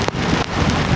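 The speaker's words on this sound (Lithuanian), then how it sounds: "iki dabar non-stop lyja" Heavy, continuous rain pouring down in a city, a loud dense hiss of drops hitting surfaces close by.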